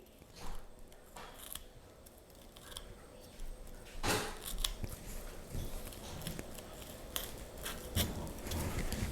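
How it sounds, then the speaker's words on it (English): A knife makes shallow slits through walleye skin along either side of the dorsal fin, giving a run of faint, irregular scraping and crackling strokes with a few louder bursts, close by and without talk. "You're going to make slits along the top on either side of the dorsal fin. Just a shallow cut, cutting the skin"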